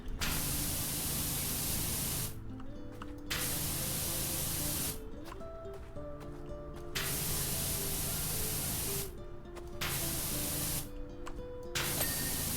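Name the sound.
pressure washer spraying in PowerWash Simulator video game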